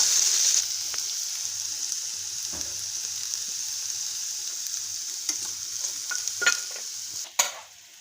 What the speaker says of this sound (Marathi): आता बटाटा आपला बऱ्यापैकी फ्राय झालेला आहे